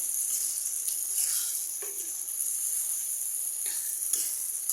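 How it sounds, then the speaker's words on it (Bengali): Chicken liver poured into hot spices in a pan sizzles steadily, a bright continuous frying hiss with a few soft stirring clunks, close and moderately quiet. "এখন আমি কলিজাগুলা ঢেলে দিব মশলার মধ্যে।"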